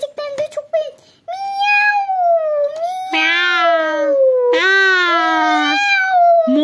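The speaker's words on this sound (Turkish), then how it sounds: "Ama İkiniz de Maşa'nın kedisi olacaksınız bundan sonra." Kittens meowing in a home, high drawn-out cries following a few quick rattling clicks, the calls continuous and close, several overlapping at once.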